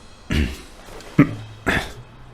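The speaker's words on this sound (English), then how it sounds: "Awkward coughing sounds." Three short throat-clearing coughs from a character in the video game Blacksad: Under the Skin, close and moderately loud, spaced apart with brief quiet between them.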